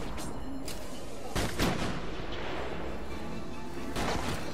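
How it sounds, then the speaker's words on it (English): Sniper gunfire in the video game Arkham City, a few sharp cracks spread across a dense, noisy game soundscape, with one strong report near the middle and another toward the end. "Stop shooting me!"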